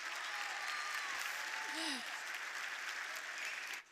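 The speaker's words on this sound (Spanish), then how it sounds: "Vamos a darle un aplauso a Javi, por favor." Steady audience applause at an economic forum talk in Madrid, a continuous dense wash of clapping throughout with a faint voice briefly heard over it.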